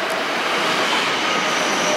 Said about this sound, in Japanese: 下り列車来るのは東京メトロ1万系ですね